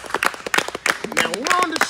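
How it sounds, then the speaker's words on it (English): An audience claps in a full room, with a quick scatter of hand claps alongside a voice talking over them. "Let's clap it out for them."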